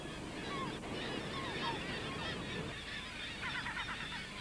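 Common and Brünnich's guillemots call from craggy sea cliffs on the Kamchatka coast, a busy chorus of honking, growling seabird voices over wind and surf.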